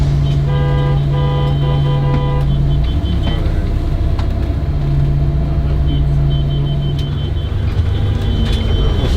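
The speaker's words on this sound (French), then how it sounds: "Tu klaxonnes quoi, tu vois?" Car horns honk in long sustained blasts, two extended toots with shorter beeps between, over loud street crowd noise and traffic rumble, with voices in the background.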